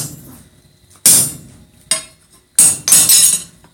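A hammer drives a punch through hot metal on an anvil to punch a hole at a live tong-making demo, four sharp metallic strikes ringing out close and loud, spaced unevenly, with the last two coming close together.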